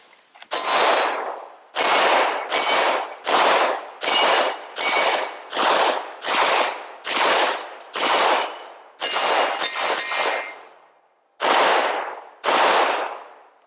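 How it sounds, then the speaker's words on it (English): A Glock 17 pistol fires about a dozen loud, close gunshots, each with a ringing tail. They come in a fairly even string with short pauses between them. "Last one, we're going to put a couple of rounds with the Glock."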